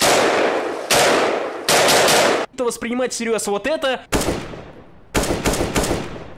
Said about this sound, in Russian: Если вы хоть раз в реале слышали звук стрельбы из АК-47